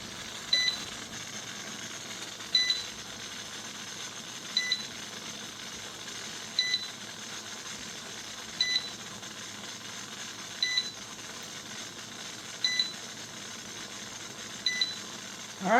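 An electric pressure cooker beeps in short double tones roughly every two seconds, eight times over a quiet, steady room background.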